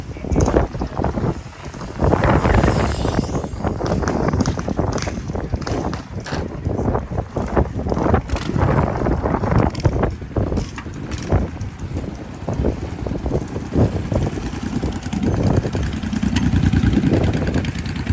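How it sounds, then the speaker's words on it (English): An assault mini bike engine runs outdoors at a park ride-out, a rough, continuous engine sound heavily buffeted by wind noise and fairly close throughout. "The assault mini bike."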